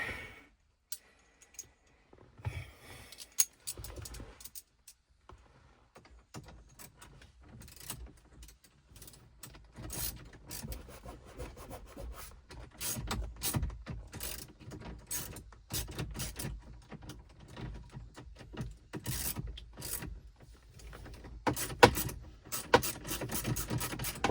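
A ratchet tightens small bolts while a start/stop eliminator is installed on a Ford Bronco. The clicking comes in quiet, uneven runs with light scraping of metal between them, and nobody speaks.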